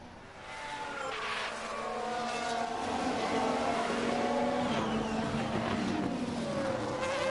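A Ferrari Formula 1 race car drives at Austin, USA, its high engine whine steady and building slightly in loudness as it runs on, with no break in the sound.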